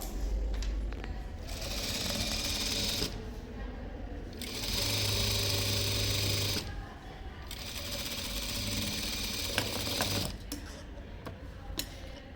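A sewing machine stitches a seam on a pant in three close, rapid whirring bursts of a few seconds each, separated by brief pauses with faint handling clicks.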